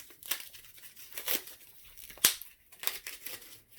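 Packing tape on a silver bullion package is torn and pulled in several short, crackling rips with crinkling between them, close by and fairly quiet, with no voices.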